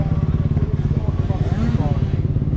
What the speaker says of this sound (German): Tobi hat sich leider schon seine Auspuffbirne zerschossen